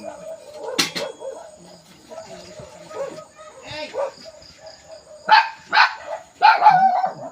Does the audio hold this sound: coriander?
no